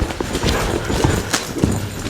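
A ridden horse walking, hooves clip-clopping in an uneven steady rhythm close by, with some creak and rustle of movement and faint breathing around the steps.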